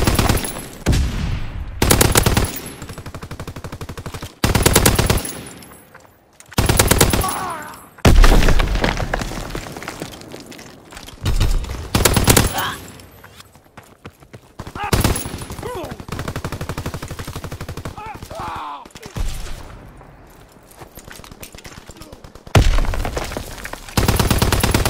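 Machine gun fire in the Call of Duty WW2 video game comes in loud bursts of rapid shots broken by short gaps, with booming impacts and battle noise in between, and voices briefly call out during the firing.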